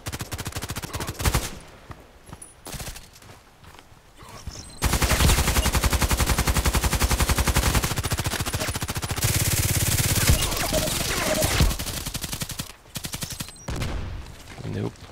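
Video game combat with bursts of automatic gunfire, short rattling volleys giving way to long sustained machine-gun streams, loud and close, with a heavy thump suggesting a grenade near the middle.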